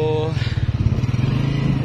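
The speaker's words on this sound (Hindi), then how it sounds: "बाइक के ऊपर अब हम बैठ गए हैं।" A motorcycle engine runs steadily close by in midday heat as the rider settles onto the bike, a continuous low throbbing drone with a brief higher tone at the start.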